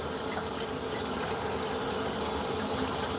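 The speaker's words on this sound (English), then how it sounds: "You just want to run it under water." Cold tap water runs steadily over rice being rinsed, a continuous gushing, splashing flow that stays even and close throughout with no voices.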